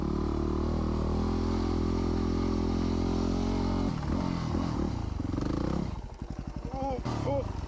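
A dirt motorcycle labours up a steep trail with a steady, loud engine drone that breaks into rougher, uneven revving and clattering partway through, close to the rider.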